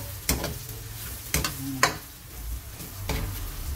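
Chop suey meat and vegetables stir-frying in a pan, with a steady sizzle broken by a few sharp scraping stirs of a utensil against the pan.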